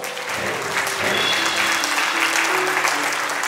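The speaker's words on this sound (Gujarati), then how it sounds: "એવા મારા વીર પ્રભુ માટે જરા જોરદાર તાળી" An audience at a Jain religious gathering bursts into sustained, dense applause, many hands clapping together at an even loudness for several seconds, with a faint tonal note ringing through in the background.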